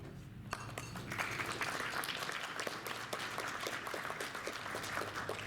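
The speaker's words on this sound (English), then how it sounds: "Applause." An audience at a heritage center's annual meeting claps steadily for several seconds, a soft, even patter of many hands in a room.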